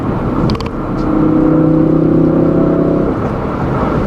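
A 2016 Ford Focus RS accelerating hard, its close, loud engine drone swelling after a second and holding a strained, steady tone for about two seconds before easing back into a broad road rumble, with no voices.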